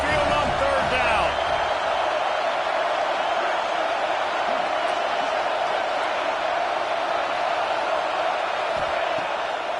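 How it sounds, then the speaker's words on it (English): Synthetic stadium crowd noise from an NCAA football video game, the Alabama Crimson Tide home crowd roaring steadily on a third down at Saban Field, a dense continuous rumble with a commentator speaking over it. "The Tide crowd rolling noise down onto Saban Field on 3rd down."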